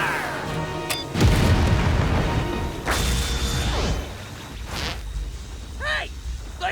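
Cartoon weapons fire at aliens in an animated battle, producing a loud booming blast and crashes, then whooshes and bursting pops over several seconds, with a voice heard in the mix.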